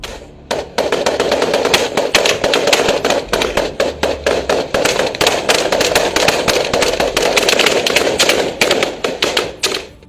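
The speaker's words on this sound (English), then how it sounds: "The guards kept firing at the pirate boats." Armed guards aboard a ship fire guns at approaching pirate boats, a dense, loud stream of sharp cracking shots in rapid, uneven bursts that runs almost without pause for about ten seconds.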